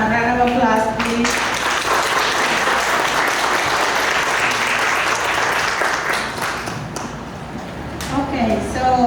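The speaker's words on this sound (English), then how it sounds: "can we give them a round of applause, please?" Loud, sustained audience applause at a college panel event on CalFresh outreach, a dense wash of clapping filling the whole stretch, with brief voices at the start and end.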